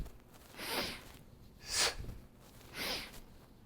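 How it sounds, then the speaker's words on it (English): Exaggerated, forceful breaths through the nose during Hindu squats: three separate whooshing inhales and exhales, close and fairly quiet, evenly spaced about a second apart with near silence between them. "now I'm exaggerating these breathing sounds"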